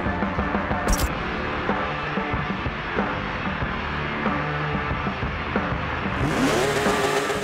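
A 2012 Porsche 911 GT3 RS 4.0 engine in Forza Motorsport 7, revving and droning continuously up close with shifting pitch, heard alone over several seconds.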